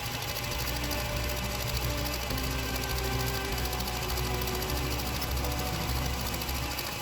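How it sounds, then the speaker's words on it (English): Stand mixer whipping royal icing at medium speed, a continuous even mechanical whir with a faint rhythmic rattle, steady and unbroken throughout. "And then we'll turn the mixer up to medium speed, which on this is around a 4-5."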